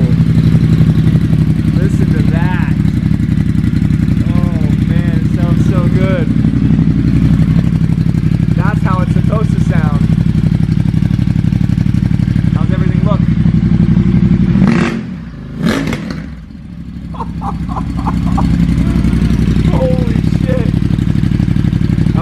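A Ducati XDiavel motorcycle fitted with a Termignoni exhaust idles with a steady, deep rumble throughout. A brief revving burst comes near the end, and people talk over the engine noise.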